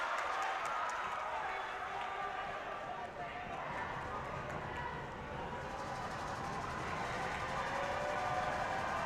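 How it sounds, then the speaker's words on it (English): A packed gym crowd roars steadily at a boys high school basketball game between Troy and Fullerton during free throws, a dense, loud wash of voices that never lets up while a commentator talks over it. "The chants are loud right now."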